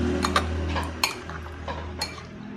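A spoon stirs and clinks against a pot while pazhankanji, leftover rice soaked in water, is mixed with salt and curry leaves, giving light scattered taps over a steady low hum, with no talk.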